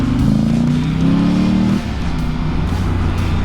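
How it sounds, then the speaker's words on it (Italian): Traffic on the seafront road in Antofagasta: a steady, close motor rumble with a rising engine tone that cuts off partway, then a continuing lower drone. "Vedete questo traffico"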